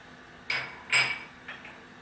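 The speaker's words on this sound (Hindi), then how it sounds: "ये सारे मसाले जो हैं वो इसके अंदर चले जाएंगे" Whole spices drop into a metal cooking pot for a chicken yakhni, three small clinks in a row, close by and fairly quiet.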